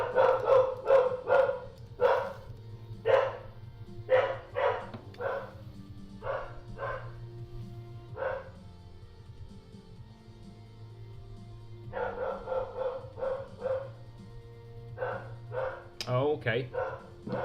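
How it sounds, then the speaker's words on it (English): A pet dog barks indoors in repeated bursts of sharp yelps, some rapid and clustered, then goes quiet for a few seconds before barking again, with a low steady hum in the background. "Sorry if you hear my dog barking,"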